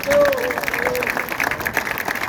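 An audience at a rugby squad presentation applauds a young player being introduced, with steady clapping under a speaker's voice and a brief whistle or tonal sound early on.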